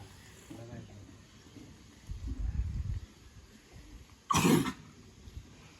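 A single sharp cough bursts out loudly near the end, after quieter murmuring voices and a low thump earlier.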